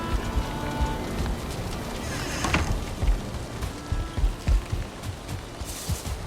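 Rain falls steadily in the survival game Valheim, a dense continuous hiss with scattered soft thuds and taps throughout, heard alone at a constant moderate level.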